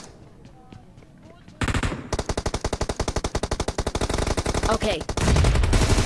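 Rapid automatic gunfire in PUBG Mobile during a squad match, a sustained loud burst of evenly spaced shots running for several seconds with a heavier rumble near the end, a voice speaking briefly beneath it.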